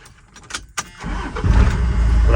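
An old first-generation Dodge truck starts up: a few short cranking bursts, then the engine catches and settles into a loud, steady close-up idle.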